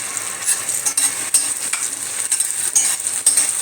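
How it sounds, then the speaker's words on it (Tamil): Ground tomato sizzling as it hits sautéed onions and garlic for an oil brinjal tamarind curry, a close bright hiss with intermittent stirring scrapes throughout. "இப்போ வெங்காயம் பூண்டெல்லாம் வதங்கிடுச்சு இப்போ ஒரு தக்காளியை அரைச்சி வச்சுருக்கேன்"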